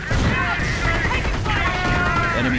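Dense battlefield gunfire and crashing explosions fill a Company of Heroes skirmish, continuous and loud, with voices shouting over the din.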